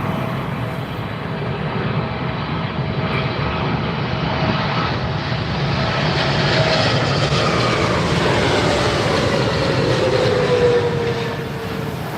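An airliner arriving on runway 27R at London Heathrow, a loud sustained roar of jet engines that swells gradually and holds steady, with a faint falling whine, heard from the ground nearby.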